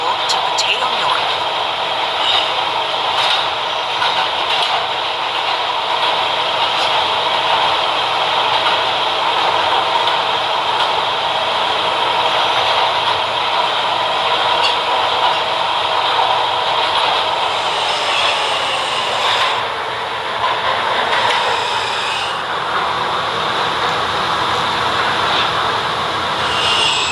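PTA B train on the K line via 5th Ave running steadily at speed, a continuous rumble with rail hiss and occasional brief wheel squeals over about half a minute, loud and close as heard from inside.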